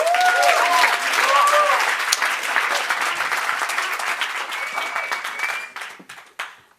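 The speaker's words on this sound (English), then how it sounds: "Please, a big round of applause for them." Applause from a demo day audience at a London coding bootcamp fills the room, dense and steady at first, then thinning into scattered claps before fading out, with a few whoops rising over it.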